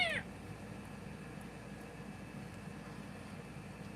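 A cat gives one short, fairly close meow right at the start, then only a low steady background hum remains.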